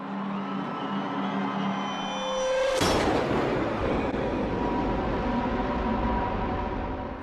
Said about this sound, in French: Soudain, on a entendu des coups de feu.